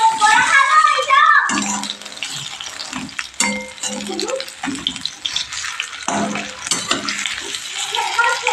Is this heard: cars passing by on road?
no